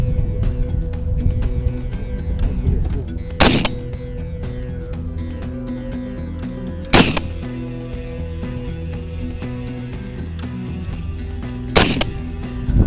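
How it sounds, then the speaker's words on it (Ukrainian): An AK or AR-15 rifle fires at target practice, three sharp, loud single shots spaced several seconds apart over a continuous mechanical background hum. "Робитиму по три постріла для того, щоб мати хоч якесь уявлення про середню точку влучання."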